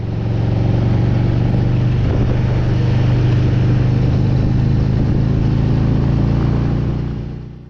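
A motorcycle cruising along Weir Road, a rural country road near Auckland, its engine a steady, loud, continuous drone with a strong low hum and wind rush, holding even throughout with no voices.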